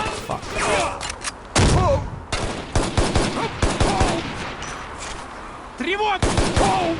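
Rapid bursts of gunfire in the shooter game Shadow Ops: Red Mercury, loud and close, with short volleys spread across the stretch and voices shouting in between.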